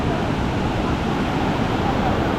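Waves break on the shore at Balangan Beach, Bali, a loud, dense, continuous wash of surf with no clear gaps, close and filling the whole scene.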